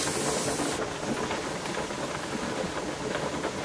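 Steam hisses steadily from the vent of a Presto pressure canner while pineapple is being canned, a constant close broadband rush whose brightest top end drops away near the start.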